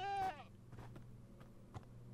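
A goat in the video game Minecraft gives one short wavering bleat at the start, followed by a few soft thumps and faint game ambience.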